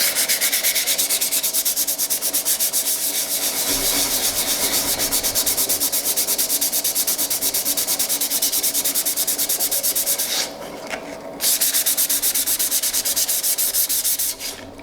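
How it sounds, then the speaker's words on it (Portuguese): Sandpaper rubbed steadily by hand across an MDF board, a loud, continuous scratchy rasp lasting the whole stretch, with only a brief dip near the end and no voices. "eu vou passar aqui a lixa no meu MDF, vou deixar ele uniforme"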